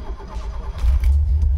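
A Fiat Tipo engine starts up, a loud close crank that catches into a steady low idle rumble within about a second.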